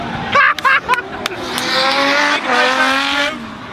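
A 900 bhp Ford Mustang drifts with a long, rising tire squeal and engine whine, with sharp bursts of voices or clatter early on.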